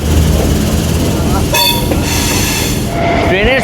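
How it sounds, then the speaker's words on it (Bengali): A crowded morning commuter train runs from Bangaon toward Sealdah, filling the space with a loud, steady rumble of wheels and carriage noise, broken by brief high tonal squeals and a rising whine near the end. "ট্রেনের স্পিড কিন্তু ব্যাপক লাগে।"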